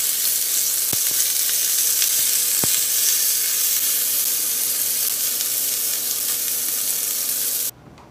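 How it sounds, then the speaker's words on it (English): Sliced beef chuck browns in a hot pan, a steady loud sizzle and crackle running throughout with a couple of sharp pops, then cutting off abruptly near the end. "We're going to brown these."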